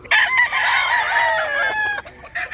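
A K-Red gamefowl rooster of the golden boy line crows loudly and close, one long drawn-out call with clucking edges, alone without talk.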